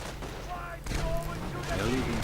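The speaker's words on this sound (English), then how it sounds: "Grenadiers firing in support." Rifle fire from Company of Heroes crackles in short bursts beneath a commentator's voice, a brief busy battle mix.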